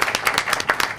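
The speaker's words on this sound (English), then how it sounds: "I think we should clap for that." At a school district board of education meeting, an audience gives a brief burst of applause, a short patter of claps from a modest crowd heard close by.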